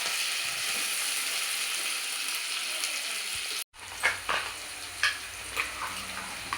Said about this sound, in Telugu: ఒక 2 నిమిషాలు పచ్చి వాసన పోయే వరకు ఫ్రై కావాలి.